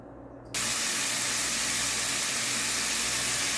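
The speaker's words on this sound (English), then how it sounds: "you want to cook your bacon in a very heavy skillet" Bacon sliced into quarter- to half-inch pieces hits a heavy cast iron skillet, bursting into a loud, steady sizzle and hiss after a brief quieter moment, continuing without pause.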